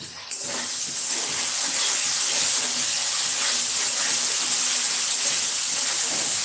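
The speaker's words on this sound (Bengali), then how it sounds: "আলুটা ভেজে দিচ্ছি গোল গোল আলু ভাজা খেতে ইচ্ছা করলো" Round potato slices sizzling in hot oil, a steady loud hissing fry that holds evenly throughout with faint background noise.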